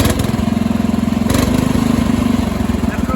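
A repaired tractor engine with a working muffler idles close by, throbbing in a steady, even rhythm that stays loud for the whole short stretch.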